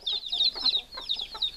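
A rooster and a hen squabbling in a permaculture garden where the hen has chicks, with agitated clucking and rapid squawks repeating in quick, irregular bursts, close and fairly loud.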